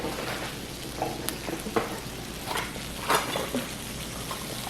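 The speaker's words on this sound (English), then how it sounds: "Getting the sizzle." A steak frying in a hot pan gives a soft, steady sizzle with scattered sharper pops and crackles, moderately close, with no voices.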